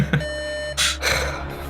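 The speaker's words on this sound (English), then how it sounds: "An alarm wakes all 3 of you." A sustained electronic alarm tone rings out during a tabletop roleplaying session, a steady pitched drone with a brief noisy burst partway through, loud and close.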